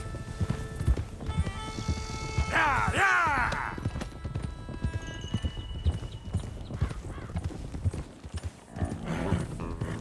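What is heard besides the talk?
herded horses trotting, hooves clip-clopping, from the video game Red Dead Redemption 2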